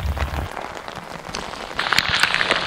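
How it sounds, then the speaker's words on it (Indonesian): Heavy rain pours on a mountain slope near the summit of Mount Prau, a loud, dense hiss of drops that swells stronger in its second half, with no one speaking. "Hujan tiba-tiba datang sebegitu lebatnya membasahi area Cemor Tunggal."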